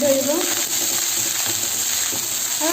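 Rice is stir-fried in a hot pan with a constant close sizzle and occasional scraping stirs, over a steady background hum.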